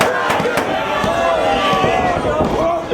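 A wrestling crowd roars and cheers at a tribute show, a dense and loud wall of voices that holds steady throughout, with sharp bursts of clapping and shouting on top and a commentator's voice over it.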